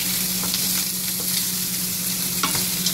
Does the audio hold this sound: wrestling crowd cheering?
no